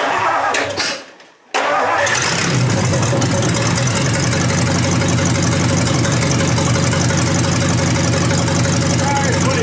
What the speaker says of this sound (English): so we're going to fire it up again. See if we got some oil pressure now